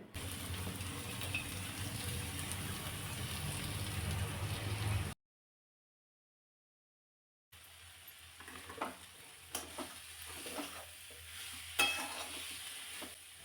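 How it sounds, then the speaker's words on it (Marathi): Chopped fenugreek leaves are sautéed with spices in oil in a pan for a dhaba-style dish, giving a steady low sizzle, then a break of silence, then quieter frying with intermittent scraping stirs and soft clinks. "या सगळ्या मसाल्यांसोबत भाजी चांगली परतून घ्यायची"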